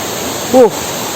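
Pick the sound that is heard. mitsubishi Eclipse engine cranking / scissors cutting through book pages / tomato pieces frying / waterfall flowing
waterfall flowing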